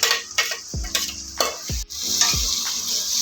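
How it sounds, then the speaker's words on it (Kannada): Ground masala paste frying in a pan with curry leaves for prawn biryani: a steady close hiss of sizzling oil, broken by several sharp spoon clinks and scrapes against the pan. "ರುಬ್ಕೊಂಡಿದ್ದ ಮಸಾಲೆಯನ್ನು ಆ್ಯಡ್ ಮಾಡಿ ನೀಟಾಗಿ ಫ್ರೈ ಮಾಡ್ಕೊಳ್ಳೋಣ."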